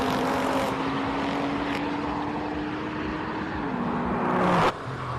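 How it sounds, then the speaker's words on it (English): A Porsche race car fires up at the Simola hill climb, its engine a loud, steady drone with a sustained tone that rises and falls slightly before cutting off abruptly near the end. "Feroz Ibrahim firing up in his Porsche"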